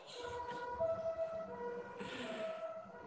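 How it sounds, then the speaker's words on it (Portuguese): An ambulance siren passes by in Brasília, its wailing tones rising and falling at moderate distance, heard alone over low traffic rumble. "Vou dar um break aqui porque está passando uma ambulância."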